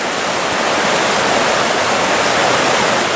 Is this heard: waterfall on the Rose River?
yes